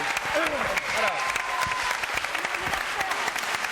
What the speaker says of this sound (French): Applaudissements pour cet arbitre.